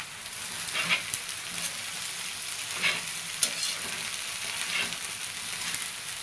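Ghol (purslane) greens stir-fried in a pan with red chilli powder and salt: a continuous close sizzle with rhythmic scraping stirs about every second, no voices.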